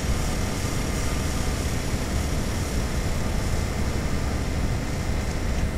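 A video game airplane drones steadily just after takeoff while climbing, its engine a continuous broadband roar that stays at an even loudness with no talking.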